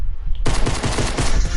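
Rapid burst of pistol gunshots in a shooter video game with an all-pistol loadout, loud and dense, firing repeatedly after a brief quiet start.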